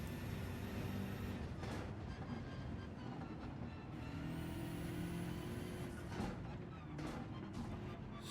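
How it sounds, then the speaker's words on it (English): Gran Turismo 7 race car engine at the Nürburgring Nordschleife, a steady loud drone with shifting pitch through gear changes and brief bursts, continuous throughout with no talk. "Such beautiful sound in all the gear changes and everything."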